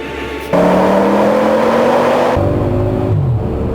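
An Audi RS 6 engine pulls hard up a mountain road, a loud steady drone that rises in pitch through the gears, dropping briefly at a shift before climbing again.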